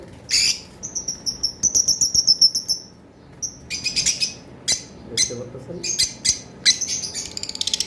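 Caged lovebirds give rapid, high, repeated chirps in bright bursts and trills, loud and near, with a brief spoken voice in the background.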